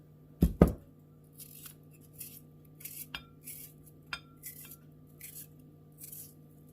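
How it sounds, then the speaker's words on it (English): A knife cuts up an onion on a board for a kale and onion crustless quiche, giving two sharp loud chops at the start, then a run of lighter, irregular taps and slices against a steady low kitchen hum. "I'm going to cut up an onion."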